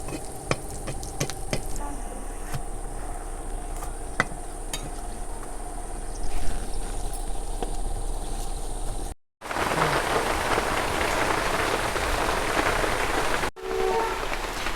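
A vegetable-stuffed paratha fries in a kadai of hot oil while oil is spooned over its top, giving a steady, close sizzling hiss with small crackles throughout, briefly cut off twice.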